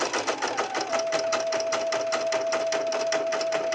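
Embroidery machine stitching out small hippo teeth on a crayon holder project, a steady fast mechanical needle rhythm with a constant whine, close and continuous.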